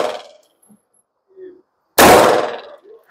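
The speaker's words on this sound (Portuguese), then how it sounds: "Mais 2 tiros naquele humanoide." Pistol shots during target practice at a range, a single loud close report with a long decay following a fainter earlier shot, amid brief background noise.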